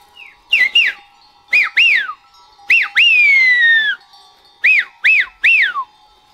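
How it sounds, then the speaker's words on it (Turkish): A shepherd whistles a call to gather a scattered flock of sheep. It comes as loud, close, piercing bursts: quick paired rising-and-falling notes, one long sliding whistle in the middle, then more short pairs, with no talk. "Bu sürüyü toplamanın ıslığı."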